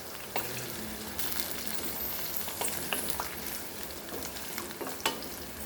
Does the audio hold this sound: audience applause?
no